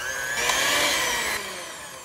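An electric hand mixer whisks cream cheese in a bowl for a no-bake dessert, a high buzzing whine that surges louder for under a second and then drops back, heard up close and brief.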